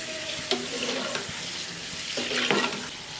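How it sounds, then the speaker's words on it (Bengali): Bangladeshi ful pitha, a flower-shaped fried pastry, is deep-frying in hot oil while oil is spooned over the top. Sizzling bubbles swell and fade, with a couple of sharp utensil clinks and no talk. "ভাজার সময় এভাবে উপরে তেল দিয়ে দিতে হবে।"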